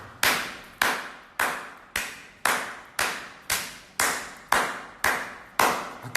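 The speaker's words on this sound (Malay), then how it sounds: "Just tepuk tangan." Hand clapping: a slow, evenly spaced series of about ten sharp claps, each ringing out with a short echo before the next, close and fairly loud with no talk.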